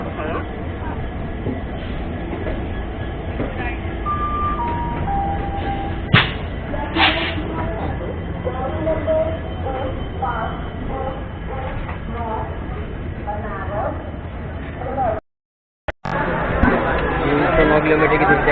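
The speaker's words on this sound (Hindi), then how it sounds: "यहाँ पर हमारी ट्रेन का 2 मिनट का हॉल्ट और डिपार्चर भी हो चुका है" An express train leaves Bareilly Junction, heard from inside a general coach as a steady rumble and clatter of carriages. Crowd chatter and voices sit over the train noise, and the sound drops out briefly near the end.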